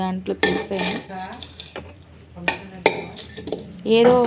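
Dishes and containers clink and knock while food is served, with sharp close metallic taps and scrapes in short clusters and a voice speaking between them.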